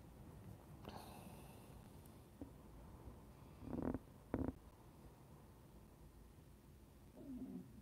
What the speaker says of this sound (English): My stomach growled so loud.